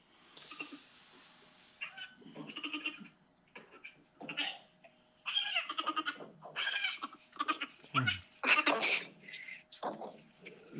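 Young goats bleat inside a horse trailer in a series of high, wavering cries, close by, with short pauses between calls.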